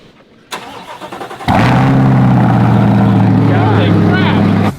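Chevrolet C8 Corvette with an AWE track catback exhaust firing up for the first time: a starter whir, then a sudden loud, deep idle roar that settles into a steady drone, with voices talking over it.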